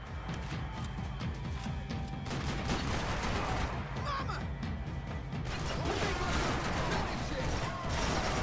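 Rapid bursts of gunfire crack and clatter during a Max Payne 3 firefight, dense and loud, mixed with crashes and shouted game voices.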